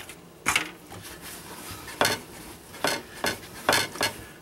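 Bread rolls being set into a baking pan, several close dull thuds and clatters of metal and dough at uneven intervals over a quiet kitchen background.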